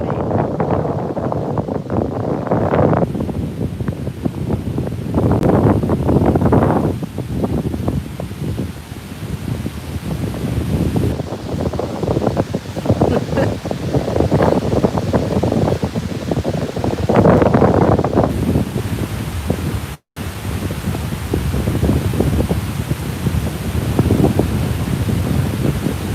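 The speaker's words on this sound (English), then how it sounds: "I'm sorry if it's totally windy, but it is pretty windy" Strong wind gusts across an open lakeshore at Presque Isle State Park, a steady roaring buffet against the microphone that swells and eases for the whole stretch, with a brief dropout near the end.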